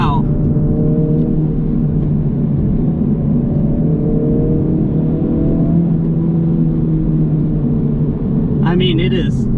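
A 2023 Honda Civic Type R driving hard on a race track, its engine holding a loud, steady droning rumble from inside the cabin, with a brief higher whine near the end.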